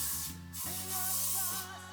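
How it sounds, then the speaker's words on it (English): Light hairspray hisses from an aerosol can onto hair in short bursts, a soft airy spray against a quiet room with a steady low hum in the background. "before I brush them out, I usually spray some hairspray."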